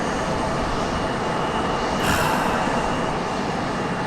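Airplane taxiing at Raleigh-Durham International Airport, a steady, loud broadband engine roar that swells briefly in the middle and continues without a break.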